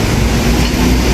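An MRT train on a platform in Singapore: a steady, loud rumbling drone with a low hum that holds evenly throughout, like a carriage running or idling close by.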